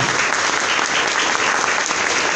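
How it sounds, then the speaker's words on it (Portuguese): Sustained applause fills the hall as a ceremonial assembly closes at a Lions Club board installation gala, honoring the national flag and those present; dense, steady clapping from a room of people with no talk over it. "A salva de palmas ao pavilhão nacional e aos presentes"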